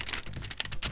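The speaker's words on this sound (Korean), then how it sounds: "비닐을 제거하고," Protective plastic film is peeled off an LG Wing smartphone, a quick burst of crackly, crinkling rustles and small ticks, close and fairly quiet, with no talking.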